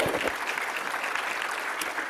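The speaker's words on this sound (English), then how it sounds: "Another round of applause for our panel." Steady, dense applause from a conference audience at the Africa Health Agenda International Conference (AHAIC), cheering a panel; a brief, even burst of many hands clapping together.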